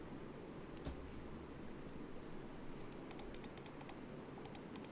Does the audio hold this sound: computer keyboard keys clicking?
yes